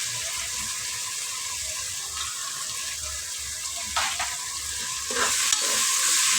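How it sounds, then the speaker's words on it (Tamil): Green peas stirred into coconut milk rice in a pan, a soft steady scraping and sizzling with brief louder clatters of the spoon near the end. "பச்சை பட்டாணி வாங்கினேன், அதையும் போட்டுக்கிறேன்."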